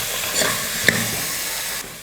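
Chicken kulambu masala, made with jackfruit seeds, sautés in a pan: a soft, close sizzle with a brief scrape of stirring and a light steamy hiss.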